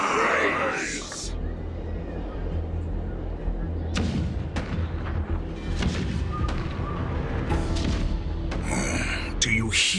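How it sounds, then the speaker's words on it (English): Cannon fire rumbles in the Honkai: Star Rail video game as deep booms and sharp blasts recur over a steady low roar, with a voice speaking amid the bombardment. "The rumble of the cannons."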